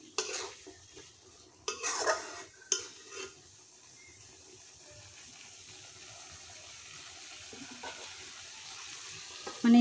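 Fried meat being stirred and sautéed in a pan, with scraping stirring strokes and a soft sizzle, a few louder clanks early on, then a steady quieter frying hiss, close by.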